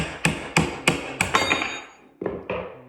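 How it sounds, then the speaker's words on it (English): Sharp metallic hammer blows ring out in a steady rhythm while tapping a nail out of floorboards, about five strikes, a pause, then two more taps, close by. "then you can just use your front of your hammer"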